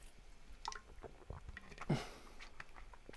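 A person pauses to drink water, with a single faint gulp or swallow near the middle of an otherwise quiet stretch.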